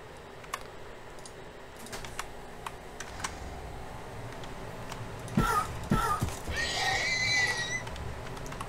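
A horse in the Minecraft video game whinnies loudly near the end, over a background of sharp clicking taps.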